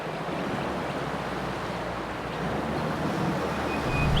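A 4WD Nissan Patrol pushing through a deep creek crossing in first gear low range. Water rushes and surges loudly and continuously around the vehicle, with a low rumble underneath that builds toward the end.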